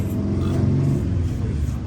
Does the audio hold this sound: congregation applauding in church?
no